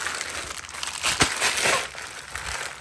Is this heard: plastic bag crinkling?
yes